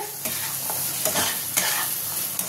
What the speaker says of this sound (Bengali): এটা ভালো করে আমি কষাবো। ভালো করে কষিয়ে নেব।